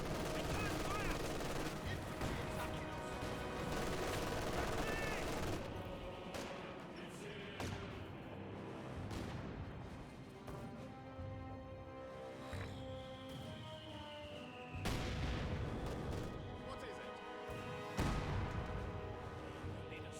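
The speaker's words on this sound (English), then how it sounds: "120 millimeter mortars engaging that one" Gunfire and mortar artillery in the World War II strategy game Company of Heroes 2, with 120 mm mortars firing; dense bursts of shots and heavy thuds rattle on throughout, with a sharp louder blast near the middle and more impacts toward the end, while a commentator talks over it.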